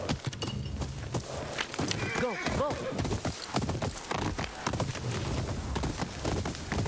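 A horse's hooves clip-clop steadily in Ghost of Yotei, with a clear whinny near the middle, while voices talk over the rhythmic hoofbeats.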